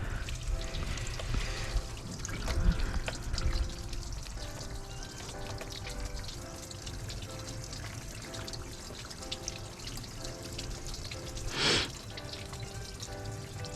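Water flushing through the cooling system of a BMW 3 Series e9x, a steady gushing, trickling wash with a broad hiss, continuous and fairly close, with a brief louder splash near the end.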